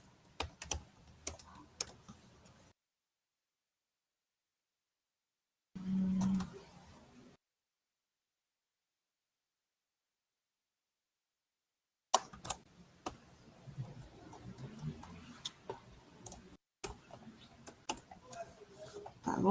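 Typing on a computer keyboard during a programming lesson: quick clusters of light key clicks, a short burst, a long silent pause, then steadier typing that continues to the end.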